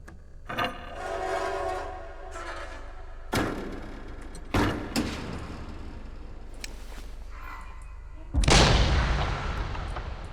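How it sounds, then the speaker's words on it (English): Gunfire in the horror video game Layers of Fear (2023): four loud, sharp blasts at irregular intervals, the last followed by a long, noisy rumbling tail. "They just keep shooting."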